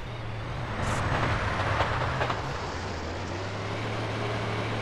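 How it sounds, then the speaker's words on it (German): Trains passing in GTA San Andreas give a loud, continuous rumble with a deep steady hum and some rattling clatter that swells briefly early on, then settles into an even roar. "So viele Züge auf einmal kommen."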